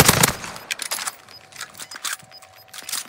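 Machine gun fire in a Call of Duty match crackles in rapid bursts, sharp repeated reports stuttering through a few seconds of gameplay.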